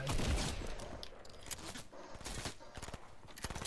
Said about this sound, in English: Why is he shooting at you when I'm literally standing right on top of him?